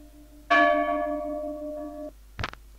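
One bell in The Long Drive strikes and rings out with a long clear tone that fades over about a second and a half, then cuts off, followed by a short thump; nobody speaks.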